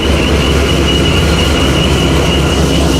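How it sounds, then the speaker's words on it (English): The supercharged engine of a C6 Corvette emits a steady high-pitched supercharger whistle over a loud, continuous roar, heard close and unbroken for the whole stretch. "I love the whistle of a supercharger."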